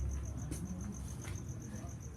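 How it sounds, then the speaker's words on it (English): A cricket chirps steadily indoors in a regular pulsing rhythm, moderately close and fairly quiet, over a low background hum with faint indistinct voice traces. "since when did the fucking cricket move in?"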